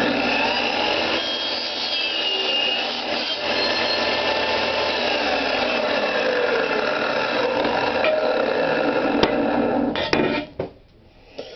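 A saw blade cuts through a 2-inch aluminum solar panel frame, a loud, sustained grinding whine with shifting pitch that ends in a few clattering knocks as it stops.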